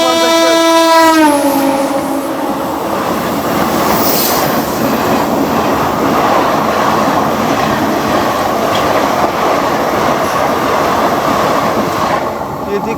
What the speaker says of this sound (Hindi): ये थी कालका सुपरफास्ट एक्सप्रेस।